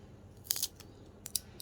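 Scissors snip off the top of a shallot bulb: two quick, crisp double-cuts about three-quarters of a second apart, close and fairly quiet, with no voices.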